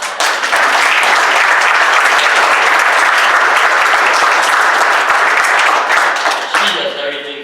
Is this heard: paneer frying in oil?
no